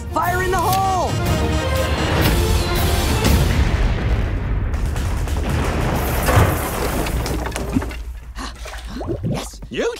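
Cannon fire sinks a battleship in an animated Addams Family scene, a dense rumbling barrage of booms and crashes filling most of the stretch before fading, with cartoon voices and music around it.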